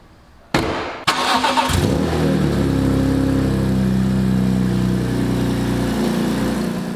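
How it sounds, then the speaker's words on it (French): A BMW M3 E46 CSL cranks with a sharp starter burst, catches and settles into a steady, loud, rumbling idle close by, with no voices. "Vous l'avez entendu, elle démarre, mais ce bruit n'est absolument pas digne de la voiture."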